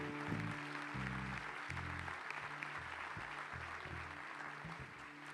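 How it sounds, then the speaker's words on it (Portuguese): Church congregation applauding, a dense, even wash of clapping held at moderate level while sustained organ or keyboard chords play underneath. "Vamos aplaudir o Senhor por essa palavra."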